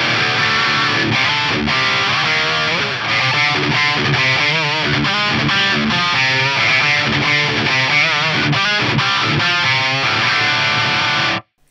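High-gain electric guitar tone through a CC boost, a loud, thick distorted sound played as continuous riffing for about eleven seconds before cutting off abruptly.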